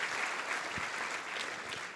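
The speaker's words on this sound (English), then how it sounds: "So how about another big round of applause for the incredible" Steady applause from an audience honoring Youth of the Year finalists, a continuous even patter of many hands clapping at moderate distance, fairly quiet.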